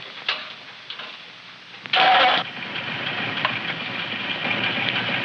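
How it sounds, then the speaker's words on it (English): A repaired farm tractor engine, heard in an old sitcom soundtrack, catches with a short burst and then runs at a smooth, even idle that carries on steadily and fairly close. "Would you believe that was our tractor?"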